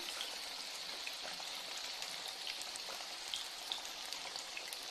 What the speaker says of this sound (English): Now my oil was ready and I've put my skillets in there.